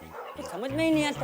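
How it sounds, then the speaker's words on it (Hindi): A dog barks and whines at night in a residential neighbourhood in a comedy TV scene; a rising, drawn-out canine cry sounds under and around a man's close speech. "पूरी रात बस भौंकते ही रहते हैं।"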